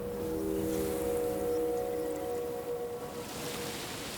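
A conch shell sound plays in the video game Jusant, a soft, airy, sustained tone over a whooshing, surf-like wash that fades gradually, faint and with no voices.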